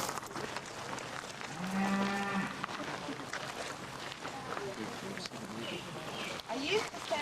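A cow on a farm at Colonial Williamsburg lets out a single low, drawn-out moo near the start, then the scene settles into outdoor rustling with soft wind and faint speech.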